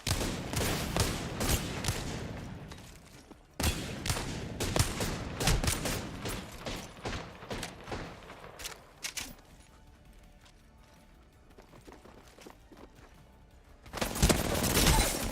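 Rapid volleys of gunfire from the Apex Legends battle royale shooter, with dense bursts of shots for several seconds, a sudden stop, then scattered quieter shots and a final loud burst near the end.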